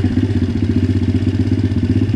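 MRF 170 pit bike fitted with Daytona 190 parts, its engine running right after a kick start, a loud steady close-up putter with even rhythmic pulses and no talk.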